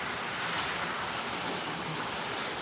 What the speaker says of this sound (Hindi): ये देख लो अभी बारिश हो रही है बहुत ज़्यादा।